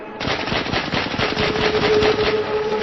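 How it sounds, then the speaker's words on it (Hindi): Rapid automatic gunfire from the animated action film Killer Bean Forever, a dense, continuous burst of shots rattling loud and close for nearly three seconds, with no talking over it. "सब पर गोली चला रहा।"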